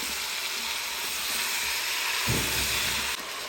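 Vegetables sizzle and hiss as they cook in a Cookeo multicooker, a steady, close frying crackle with a brief louder burst of steam near the end.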